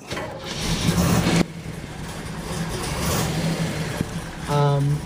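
A 1969 Camaro Z28 RS trailer car running Sunoco race fuel cranks over and fires, then settles into a loud, lumpy idle with a brief rev, close by, ending with a short burst of speech.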